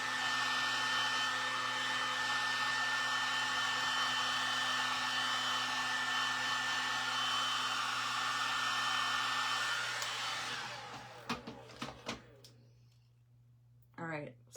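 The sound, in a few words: heat tool blowing hot air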